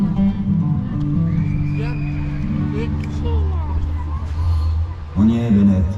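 Horses at a Wild West show neigh and whinny loudly nearby, with hooves clip-clopping under a busy crowd and people talking.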